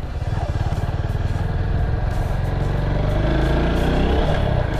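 A motorcycle shifts down into second gear and engine-brakes during an intermediate riding lesson on a slalom course, its engine a loud, close, continuous throbbing drone that shifts in pitch.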